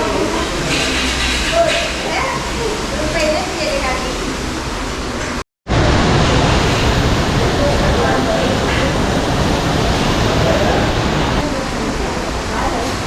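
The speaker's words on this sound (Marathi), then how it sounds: "मस्त आहे ना धबधबा" Kondeshwar waterfall near Badlapur roars as a loud, steady broadband rush of falling water, echoing around the spot, broken by one brief dropout midway; people talk over the constant roar.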